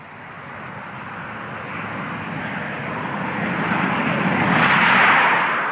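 A Cold War British jet interceptor roars on takeoff, a broad, steady jet rumble that swells louder toward the end with no other sounds over it.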